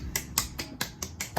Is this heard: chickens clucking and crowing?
no